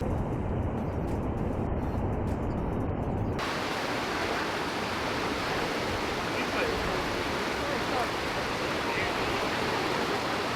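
A steady, full roar of a waterfall in Iceland fills the whole stretch, constant and close, with no voices over it.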